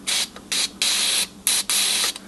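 Several short bursts of contact cleaner spray hiss in quick succession, close and fairly loud, with brief pauses between each spritz, on the controls of a 1959 NuTone Model 2024 and 1962 Model 2025.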